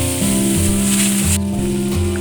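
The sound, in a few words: frying ground chili, shallot, scallion and tomato paste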